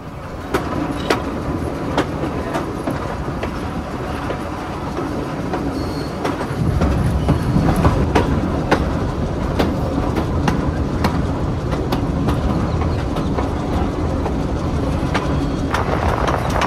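The Bhakra Railway train between Nangal and Bhakra Dam rumbles loudly along its tracks in Punjab and Himachal Pradesh, with steady rhythmic clickety-clack of wheels over rail joints and a swelling roar midway as it crosses a high bridge.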